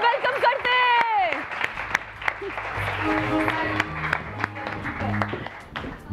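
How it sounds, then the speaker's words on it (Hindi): A studio audience on a Pakistani morning show applauds to welcome an actor and his wife, clapping building under music and a host's voice, sustained and fairly loud with speech layered on top. "शहूद अलवी, तो जनाब आप लोग की भरपूर ताली और आप लोग की म्यूजिक के साथ शहूद अलवी और उनकी मिसेस को वेलकम करते हैं।"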